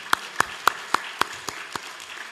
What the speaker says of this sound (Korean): 우리 하나님의 영광의 박수 돌리겠습니다.